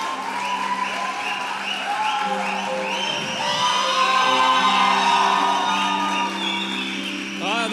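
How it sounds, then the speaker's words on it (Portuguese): A church congregation at a celebration service applauds and cheers loudly to welcome the preacher, with sustained clapping, whoops and shouts blending with music. "para receber o pregador da noite, o dobro de salva de palmas"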